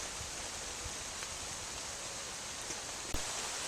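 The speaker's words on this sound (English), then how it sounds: "It's still raining," Steady rain falls in English woods, a continuous broadband hiss with faint scattered patters and one sharp drop or knock near the end; no voices.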